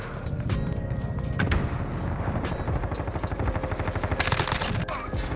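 Rapid automatic gunfire from a rifle in Modern Warfare, fired in dense sustained bursts with a sharper, louder volley near the end, loud and close throughout.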